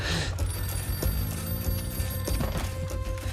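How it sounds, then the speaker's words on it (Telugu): A telephone rings with a steady electronic bell tone, repeating over a low rumbling background in an indoor scene. "సుబ్రహ్మణ్యమా, నాయన ఫోన్."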